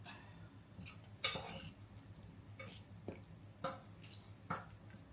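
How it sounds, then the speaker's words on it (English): A spoon stirs Cointreau into a mango tart mixture in a bowl, giving a few faint clinks and scrapes spaced irregularly and heard close up with no talk. "I'm just going to stir that through."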